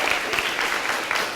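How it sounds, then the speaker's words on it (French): Steady, dense applause from a school audience cheering a student slam poetry performer, close and loud, filling the whole moment without pause. "On peut l'applaudir bien fort."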